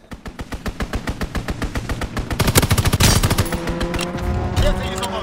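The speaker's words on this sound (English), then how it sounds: "Enemy strafing run inbound!" Aircraft strafing run in a first-person shooter match at a USS Texas map, rapid rhythmic bursts of heavy gunfire building to a loud dense barrage of impacts and explosions, with fast-paced steady pops continuing.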